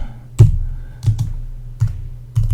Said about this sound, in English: let's type in the word